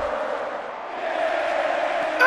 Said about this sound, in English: Man, do you hear that crowd?